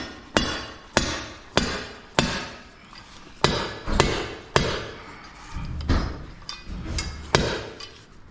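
Hammer striking at a concrete column job site, about a dozen sharp, evenly spaced blows ringing close and loud, without talk.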